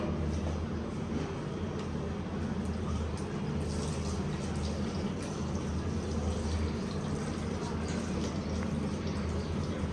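Hands are washed under a running tap, with a steady, close wash of flowing and splashing water that continues unbroken for the whole stretch and no voices over it.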